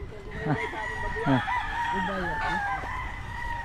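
A large flock of roughly 120 to 130 chickens clucks and squawks close by, with a rooster crowing over the steady farmyard chatter.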